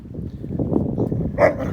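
Dog softly growling a warning at another dog, a low continuous rumble close by that ends in a brief louder yelp-like sound.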